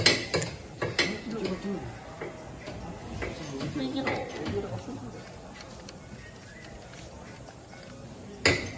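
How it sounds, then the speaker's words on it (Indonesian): A size 17 socket wrench tightens a shock absorber nut with soft metallic ratcheting and clinks. A sharper clank comes at the start and another near the end, and someone speaks over it. "Dan kita kencangkan dengan menggunakan kunci shock ukuran 17."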